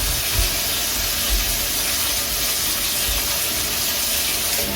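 Tap water runs steadily and loudly while dishwashing liquid is rinsed off, giving a broad continuous rush with a few low knocks underneath.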